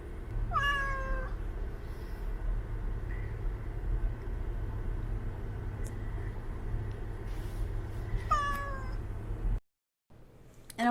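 Distressed cats meowing in a hotel room during a hurricane evacuation, two drawn-out meows about eight seconds apart over a steady low hum.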